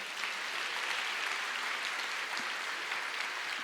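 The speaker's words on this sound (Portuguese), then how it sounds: "Vamos aplaudir ao Senhor." A church congregation applauds in a dense, continuous wash of clapping that stays even and moderately distant with no voices on top.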